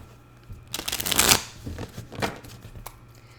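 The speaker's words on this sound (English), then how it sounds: "so let me give this a little shuffle" Tarot cards being shuffled by hand, a dense riffling burst of papery flicks followed by a few softer shuffles, close and fairly quiet with no talking.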